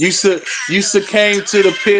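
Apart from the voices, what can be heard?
None of the usual background noises is heard.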